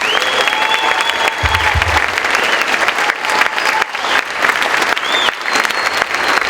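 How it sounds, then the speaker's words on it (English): Audience applause for educators and instructors at a birthday ball event, a steady, dense clapping crowd filling the room for several seconds, with a few cheers and whistles over it. "So will you please give me a round of applause for those people."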